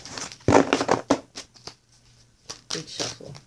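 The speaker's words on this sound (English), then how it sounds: "Good shuffle." Tarot cards riffle and flutter in a few quick shuffling bursts close by, with short pauses between them.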